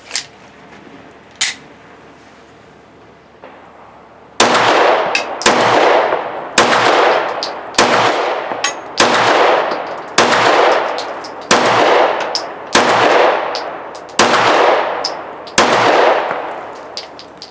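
Ruger RXM 9mm pistol fired at an outdoor range with a standard Glock 19 magazine, about a dozen sharp loud shots in a steady rhythm, each with a brief ringing echo.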